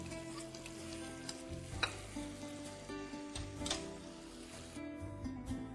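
Yogurt stirred into a sizzling pan of hot oil while making aloo masoor biryani, a soft steady sizzle with scraping stirs and light clatter, close and fairly quiet, with no talk.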